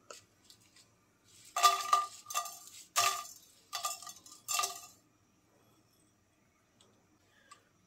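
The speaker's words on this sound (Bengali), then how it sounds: "শুকনো মরিচটা প্রথমে একটু ভেজে নেব।" Dried red chillies dry-roasting in a pan, heard as a run of soft clattering, scraping stirs and ticks in quick bursts, close and alone, then fading to near silence.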